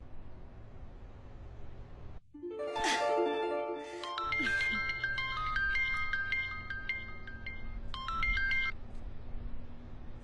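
A telephone rings with a bright electronic ringtone, repeating melodic tones loud and close in a home, after a moment of background hum, with no talking.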